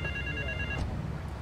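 An electronic telephone ring in the video game Grand Theft Auto III trills for most of a second, then cuts off, leaving a low steady rumble behind.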